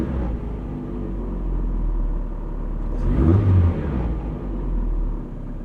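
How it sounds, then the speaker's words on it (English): A Mazda MX5 NA6 with a rough idle runs at a low, uneven idle, then surges in one loud rev near the middle and sinks back down to a lumpy idle. "So I'm gonna rev it up high and I'll put my clutch in and let it go"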